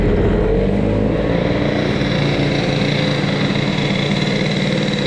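A 50cc T6 scooter engine with a Giannelli BOOSTed exhaust warming up, its loud, steady two-stroke buzz holding an even idle close by.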